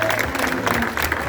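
A crowd applauding a presenter's introduction at an emigrants' event in Racalmuto, Sicily: a short burst of dense, steady clapping at close range with a faint murmur under it.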